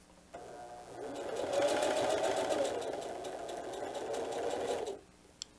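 A sewing machine stitching a diaper bag tote runs steadily at a slow even pace for several seconds, a close whirring hum with rapid needle rhythm that starts and stops cleanly.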